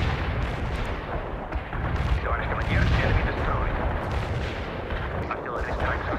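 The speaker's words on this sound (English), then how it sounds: "Artillery strike. Commencing the barrage." Artillery barrage in the Cold War strategy game World in Conflict, Soviet assault defending a prison camp at a mine: a dense, continuous roll of booming impacts and rumbling blasts, loud and sustained, with a radio-style voice talking over it.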